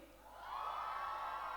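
Children at a school sports fiesta closing ceremony cheer for Mahi House, a crowd roar that swells after a quiet start and then holds steady and loud.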